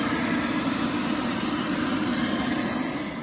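A Pilot RC 1.8 Viper model jet flying after repairs: a steady, loud, broadband engine roar with a whining hiss holds evenly, with no talk over it.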